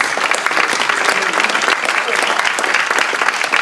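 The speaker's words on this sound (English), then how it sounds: "Let's give one more round of applause to all three candidates" Loud, close audience applause for three candidates at a Berkeley mayoral forum, continuous dense clapping throughout with a few voices faintly mixed in.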